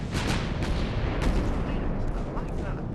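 Naval gunfire in the warship battle game Ultimate Admiral: Dreadnoughts, from large-caliber guns including 11-inch and 5-inch shells: a dense, continuous barrage of deep booming rumbles with no clear gaps.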